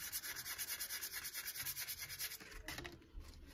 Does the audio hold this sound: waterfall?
no